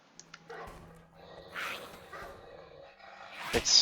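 In a fantasy video game, a dog being attacked by an invisible enemy gives out faint, broken whimpers and yips over soft ambient game sounds, ending in a sharper cry.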